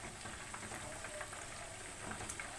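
Chicken pieces frying in oil at medium flame, a soft, even bubbling sizzle with light crackles, close but quiet, with no talking.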